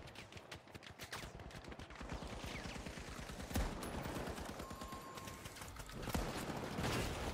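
Rapid automatic gunfire in an FPS video game, a dense, fast run of shots with heavy recoil that continues throughout with a few louder bursts.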